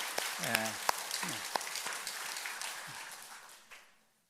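A church congregation applauds steadily during a Sunday service, a dense wash of clapping with a voice speaking over it at the start, then the clapping tapers off and stops.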